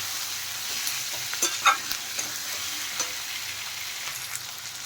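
Masala with Kashmiri chili powder fries in a pan for chole, producing a soft, even sizzle with a few light spatula scrapes and taps as it is stirred.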